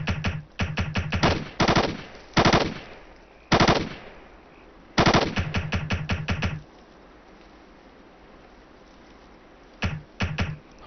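M60 machine gun in the Ghost Recon video game firing loud, close bursts of rapid shots, several volleys separated by short pauses, with a brief final burst after a longer quiet gap.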